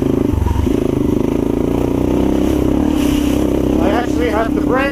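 A modded 2016 Yamaha TTR230 dirt bike, regeared, rejetted and uncorked, drones loudly and steadily at speed along a trail, its engine note holding close and constant with a faint rattle near the end.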